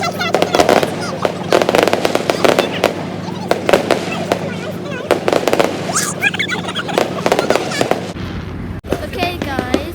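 Fireworks go off in a dense run of sharp bangs and crackling bursts, some close and loud, while people talk and call out among the explosions.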